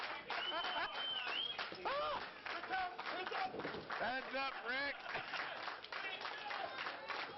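A wrestling crowd at a live event cheers and applauds loudly and steadily throughout, with a voice talking over the noise.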